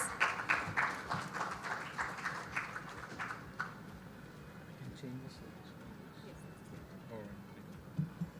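Audience applause welcoming a speaker to the podium at a live session in Goa, with a burst of clapping over the first three and a half seconds that then fades into quiet room noise.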